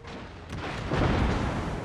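Front cannons of a warship firing in a naval combat video game, a deep rumbling boom swelling over about a second amid continuous battle noise.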